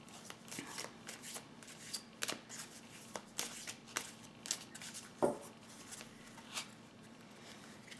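Tarot cards shuffled and drawn by hand, soft papery riffles and taps in an irregular rhythm, quiet and close, with no talking.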